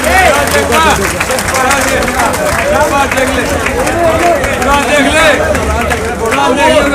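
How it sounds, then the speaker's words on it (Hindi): A crowd at an honouring ceremony for elders claps loudly and steadily, dense clapping close by mixed with chatter and shouted voices throughout. "जोरदार तालियां बजाइए।"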